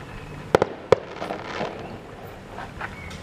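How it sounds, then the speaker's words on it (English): A few sharp firework bangs pop in quick succession, two close together then another, echoing faintly over a quiet outdoor background. "I recorded more fireworks tonight than I did on the other day"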